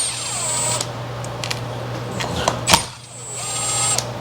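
Short bursts of a small power tool spinning bolts off a Ford AOD transmission valve body plate, whirring up and down in quick pulses with a sharp rattle near the middle, close and alone.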